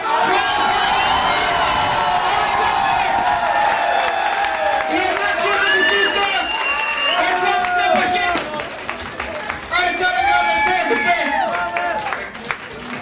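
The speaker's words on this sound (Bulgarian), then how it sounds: "Clap for all, guys" A crowd at a flair bartending contest in Plovdiv cheers, whoops and claps over loud music, with voices shouting and a host talking through it; the noise dips briefly near the end before swelling again.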